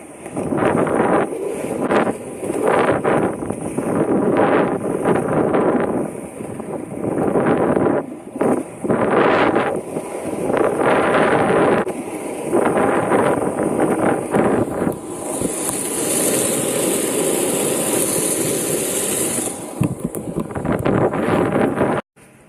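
Boat ride on open water, with steady heavy wind buffeting the microphone over churning water and engine rumble, continuous and loud, with a brief higher hiss partway through.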